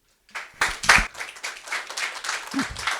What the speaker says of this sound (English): Applause, wasn't expecting that